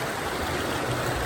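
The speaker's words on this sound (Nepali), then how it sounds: "एकदमै पानी कलकलाउँदो पानी बगिरहेको छ" A cold winter stream in the hills of Ilam, Nepal, rushes and gurgles with a steady, close, full-bodied wash of water that carries on without a break.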